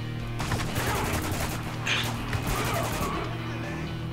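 Rapid bursts of automatic gunfire crackle continuously in the game Spec Ops: The Line, dense and fairly loud with a steady background hum.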